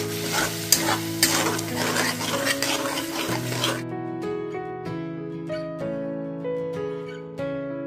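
Ground kudri (ivy gourd) paste frying and being stirred in a pan, a steady close sizzle with scraping strokes, louder at first and then softer under a continuous musical tone.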